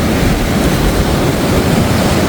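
East Sea waves breaking at Gampo harbor, a loud continuous roar of surf with wind buffeting the microphone, no voices.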